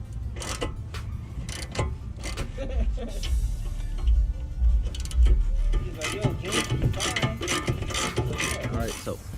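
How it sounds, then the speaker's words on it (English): A ratchet turning a 15mm socket on the brake caliper bracket bolts of a 2006-2010 Dodge Charger clicks in quick bursts of repeated pawl ticks, close and moderately loud, with soft background noise. "use the 15mm socket and ratchet to take them out the rest of the way"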